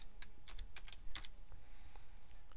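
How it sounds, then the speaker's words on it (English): Quick, close clicks of fingers typing on a computer keyboard, a short uneven run of keystrokes with no talking. "I'm going to type frequency."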